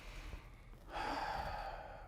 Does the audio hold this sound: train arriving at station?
no